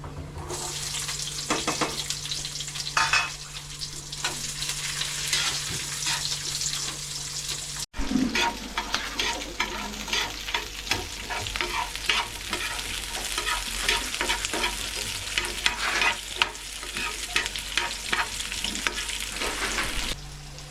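Chopped onion frying in oil over a low flame, a steady broadband sizzle running throughout with occasional stirring scrapes and clinks, close and fairly loud, with a brief break partway through and no talking.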